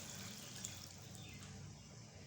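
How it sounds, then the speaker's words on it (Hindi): A glass of water poured into a cooking pot of haleem spices with black pepper and dried coriander, a steady faint pouring wash with no talk. "अब इसमें हम 1 गिलास पानी डालकर"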